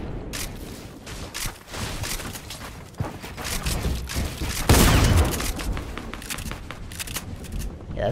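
Dense gunfire from a Fortnite match, with rapid overlapping shots and a heavier burst near the middle, loud and continuous throughout.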